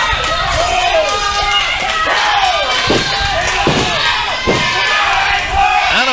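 A wrestling arena crowd roars and chants in rhythmic waves, loud and dense throughout, with shouted calls rising over the din.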